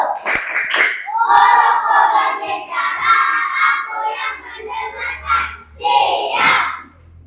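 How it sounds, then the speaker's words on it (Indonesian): A class of children performs a rhythmic concentration clapping routine, with bursts of sharp claps mixed with a teacher's voice and children's chanting voices. "Ayo, tepuk konsentrasi."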